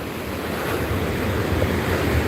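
Open-sea waves at high tide surge and wash continuously, a steady close roar of surf with wind buffeting the microphone and no voices.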